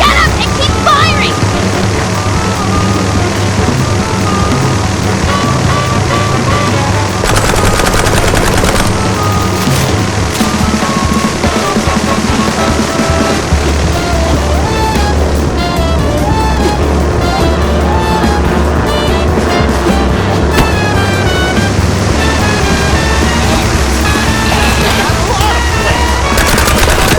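Continuous loud gunfire from the noir shooter game Mouse: P.I. For Hire, rapid shots layered over dense music and effects throughout.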